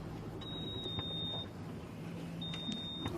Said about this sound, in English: So if you hear any beeping, that's the issue.